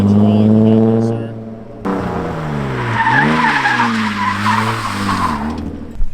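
BMW E36 drift car fitted with a hydraulic e-brake, revving loudly in a parking lot, then its tires skid and squeal as the wheels lock, with the engine droning underneath the long screech.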